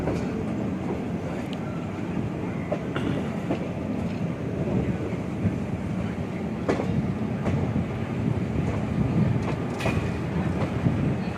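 Aboard the 22906 Okha SF Express between Rajkot and Jamnagar, a steady rolling rumble fills the carriage, with scattered wheel clicks and rail knocks at a fairly even level throughout.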